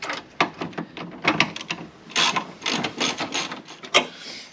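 Ratchet clicking in quick bursts while a bolt is tightened on a bonnet lifter bracket of an EP3 Honda Civic Type R, close and loud, a series of sharp metallic ratcheting strokes with short pauses between them.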